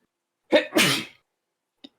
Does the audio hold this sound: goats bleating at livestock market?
no